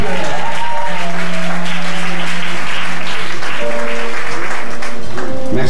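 A church congregation applauds a reverend welcomed to the stage during a worship gathering, with loud sustained clapping and cheering filling the room, plus a steady tone running underneath.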